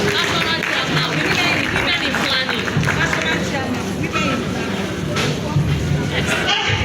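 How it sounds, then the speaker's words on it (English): Audience applause at a Nigerian professional institute's inauguration ceremony, a loud, sustained clatter of many hands mixed with crowd murmur and a voice over it, lasting several seconds. "a big round of applause for my sister"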